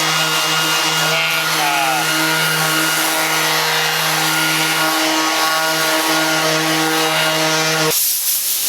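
A power sander makes a light once-over pass across an old wooden door to scuff it, a steady loud whirring hiss that cuts off abruptly near the end.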